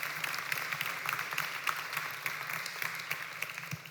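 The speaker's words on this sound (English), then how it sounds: "give a round of applause to Iman Obu" Scattered applause from a seminar audience for a returning speaker, a thin steady patter of claps lasting throughout at moderate distance, with no voices over it.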